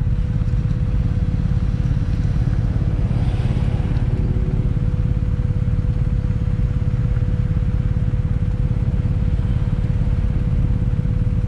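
Engine rumble from a group of about 30 motorcycles boarding a ferry, a steady low drone with a constant hum running throughout, close and unbroken, with no clear speech.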